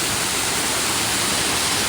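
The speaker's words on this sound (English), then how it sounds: "We have the bottom of the waterfall we saw up top there." Waterfall at a mini golf course in Myrtle Beach, a constant loud hiss of falling water with no pauses or voices.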